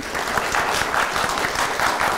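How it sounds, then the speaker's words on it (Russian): Steady applause from a crowd, dense continuous clapping that holds at an even level throughout. "Спасибо за аплодисменты"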